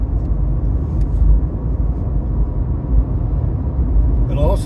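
A car cruising down a road on a trip to Fort Davis, with a steady, loud low engine and road rumble running throughout, close up, and a brief higher squeal near the end.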